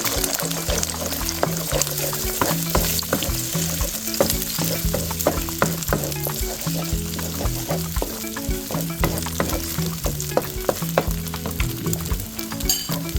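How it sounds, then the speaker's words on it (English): An egg sizzles and crackles in a hot pan while shrimp fried rice is being made, a busy, steady frying hiss full of rapid pops, with music playing underneath. "You let it sizzle for about a minute or two before you stir."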